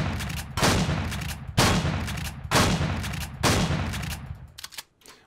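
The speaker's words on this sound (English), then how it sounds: "let's just start shotgunning stuff" Shotgun fire in the sci-fi survival game Empyrion Galactic Survival: four loud, booming blasts at a steady pace, each trailing into a rumbling decay, followed by a brief fainter burst.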